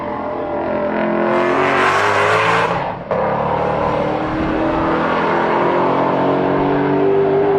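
A GT500 race car engine roars loud and close on track, rising in pitch as it accelerates, cutting briefly at a shift, then holding a steady high drone.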